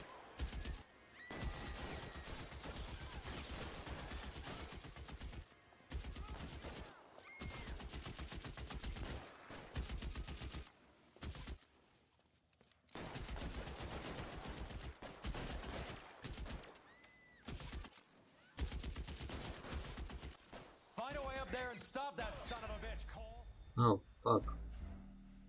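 Gunfire from enemies in the LA Noire video game, rapid repeated automatic shots in long bursts with brief gaps, loud and close, mixed with other game noise.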